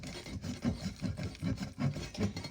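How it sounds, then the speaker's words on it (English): Parmesan cheese being ground by hand for chicken Alfredo prep, a steady rasping rub repeating in rhythmic strokes about twice a second, close and moderately loud with no talking. "First part of the prep I'm gonna do is grind the Parmesan cheese."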